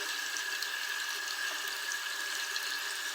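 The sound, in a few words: water rinsing face cleanser off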